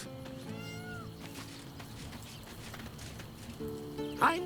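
A cat meows in the video game Baldur's Gate 3, giving a few short, clear mews that stand out over a quiet, steady ambient game background.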